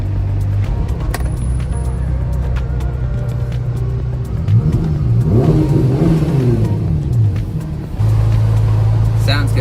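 A Ferrari Roma, sharing its engine with the Portofino, idles with a deep rumble, then revs up and down in sport mode in a rising and falling sweep before settling back to a loud idle.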